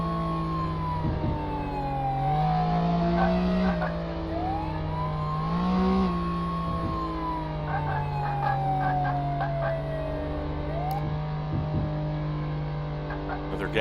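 Car engines from traffic in the early-access police game Flashing Lights hum and rev steadily, with pitch sweeping up and down as vehicles accelerate and pass close by, continuous throughout with no talking.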